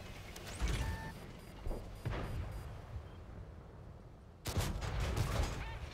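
Tank cannon firing a shell in a tank video game, a few sharp booming shots, the loudest near the end, over a constant rumbling engine bed with faint mechanical clatter.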